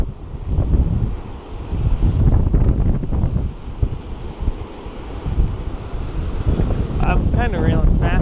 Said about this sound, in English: It's cold, wind's howling